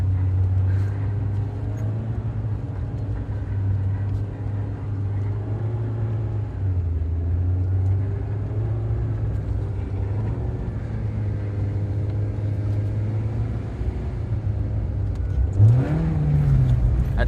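A car engine drones steadily at a low idle-like rumble for a long stretch, rising in a brief rev near the end, heard from inside a drift car with no handbrake.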